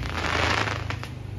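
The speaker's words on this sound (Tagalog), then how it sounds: "Wala pang alas 12 pero grabe yung paputok." A dense wash of crackling New Year's fireworks and firecrackers before midnight, continuous at first and then breaking into rapid popping bursts, loud and close.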